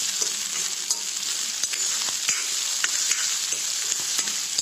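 Onion and crushed garlic frying in a pan, a steady close sizzle with scattered pops and crackles throughout, no voices.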